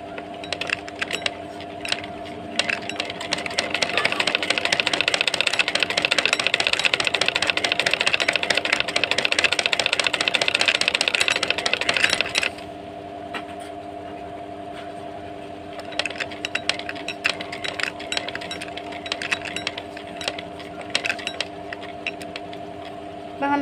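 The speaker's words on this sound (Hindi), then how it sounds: "अब हम अपनी मशीन चलाना शुरू करते हैं" A sewing machine stitches piping onto a baby jacket with a rapid mechanical clatter and a steady motor hum, running hard for several seconds, then slowing to lighter, intermittent ticking.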